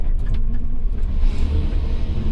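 An excavator fitted with a tiltrotator drives in reverse, a steady low diesel rumble with a slight rise in engine revs, close and continuous with no talk.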